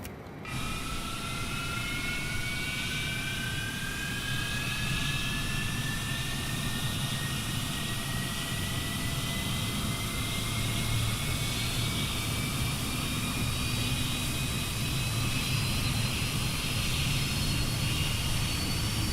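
Fokker 28 jet engines spooling up in a flight simulator, a steady loud roar with a rising whine that climbs slowly and continuously for the whole stretch, with no talking.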